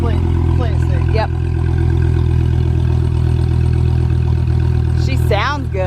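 A Dodge Viper engine idles steadily and loudly up close, a constant low rumble throughout, with people talking over it.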